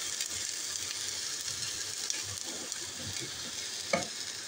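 Onion paste from one large onion fries in a pan, a steady soft sizzle with scraping stirs breaking through, one sharper clatter near the end, no talking.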